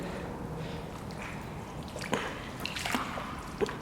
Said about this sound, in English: I'm stepping on to this beam and I'm stepping on water